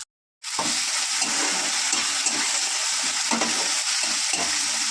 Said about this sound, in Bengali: তো ভালো করে দেখতেই পাচ্ছ নেড়ে নিচ্ছি।